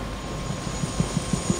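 A helicopter in the video game Prey idles nearby with a steady engine hum and a low, regular rotor thump that grows more distinct toward the end.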